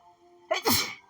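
A single close, sharp sneeze, a brief sniffing lead-in followed by the burst, from a voiced character in the Onmyoji game.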